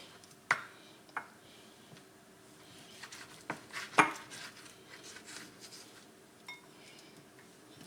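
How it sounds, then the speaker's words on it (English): A knife cuts cured beef into chunks, giving sparse, faint clicks and taps of the blade against a board, a few sharper knocks among quieter scraping. "I'm going to cut my cured beef into smaller chunks so that it will be able to cook faster"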